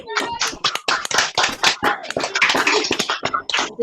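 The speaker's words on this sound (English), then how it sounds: "Please unmute yourselves and give yourselves a big round of applause." Graduates applauding over a virtual graduation video call, a jumble of many overlapping claps and taps from different microphones, fairly loud and continuous, with a few voices mixed in.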